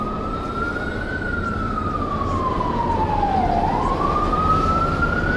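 Emergency vehicle siren wailing on a New York City street, a single rising and falling tone sweeping slowly over a steady traffic rumble, fairly close and prominent.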